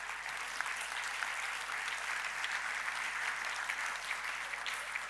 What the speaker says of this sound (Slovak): Ďakujeme za potlesk.